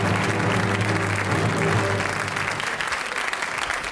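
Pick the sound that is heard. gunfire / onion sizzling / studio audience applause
studio audience applause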